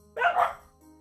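A dog barks once in a short, loud burst, followed by a faint trailing yip, with no talk over it.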